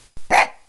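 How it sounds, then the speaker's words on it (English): A single short dog bark, sharp and close, preceded by a brief soft thump. "Tell me what you want. Don't bark at me."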